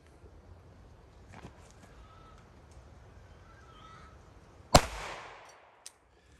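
A single loud, sharp report from an unsuppressed 300 Blackout rifle fired outdoors, cracking suddenly and then trailing off in a short echoing decay, followed by a faint small click; quiet ambient background before the shot.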